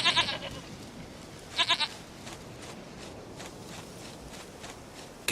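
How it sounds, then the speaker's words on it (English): A goat on The Witcher television show bleats in short quavering bursts, two clear calls a second or so apart against a noisy outdoor background with faint movement. "Goat of mine, dearest, sweetest goat."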